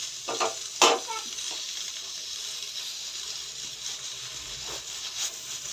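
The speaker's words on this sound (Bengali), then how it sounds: "এটাকে ভালো করে ভাজতে হবে" Sweet sugar paratha flatbread fries in a little oil in a pan, giving a steady close sizzle with a few sharper crackles and stirring scrapes near the start.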